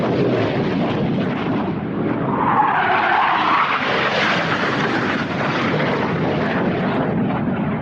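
A radio-controlled model Typhoon jet making a low pass, a loud continuous jet roar that swells and shifts in pitch as it sweeps by, with no talk.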